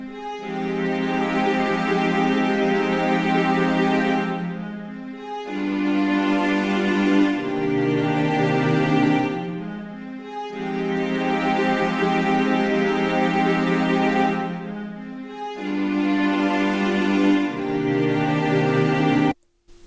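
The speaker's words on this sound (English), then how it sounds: "I added a VC S legato string, which is a string ensemble from SRX Orchestra," A legato string ensemble patch from a Roland SRX Orchestra sound expansion plays sustained chords in four long phrases with short gaps, smooth and full, with no voices.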